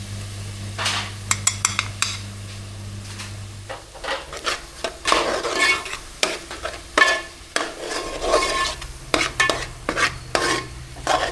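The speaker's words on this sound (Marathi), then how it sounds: "आता आपण लाल कोळी मसाला सुद्धा तेलामध्ये शिजवून घेऊ हळू गॅसवरती" Red Koli masala paste cooks in oil over a low gas flame, with a spatula scraping and stirring the pan in repeated close strokes above a soft, steady sizzle.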